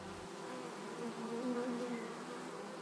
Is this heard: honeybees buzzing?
yes